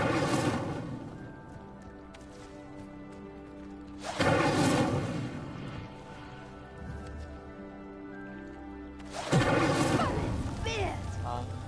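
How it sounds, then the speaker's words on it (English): A burning pyre in the Hogwarts Legacy video game sinks after being set alight by a fire spell. It makes two loud, rumbling crashing surges several seconds apart over steady game music. "The flames make the pyre sink."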